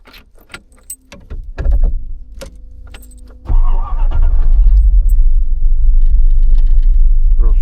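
An FSO Polonez car cranks with clicks and clunks, then the engine catches and settles into a loud, steady, close idle rumble.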